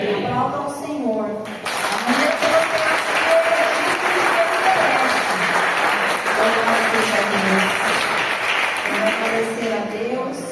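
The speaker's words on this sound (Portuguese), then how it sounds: "Aplauda ao Senhor." A church congregation claps steadily and loudly for several seconds during a Sunday service, with music tones and some voices underneath the broad applause.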